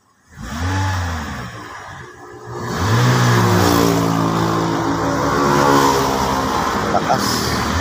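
A car engine revs after a top overhaul, rising twice in strong pulls, dropping between them, then holding a loud, busy high idle, close by in a workshop with faint talk around it.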